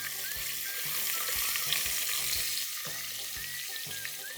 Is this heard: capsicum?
yes